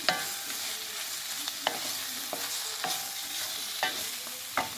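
Ginger softening in a pan for a ridge gourd masala curry, a quiet steady sizzle broken by several distinct scrapes of a spatula stirring at irregular intervals.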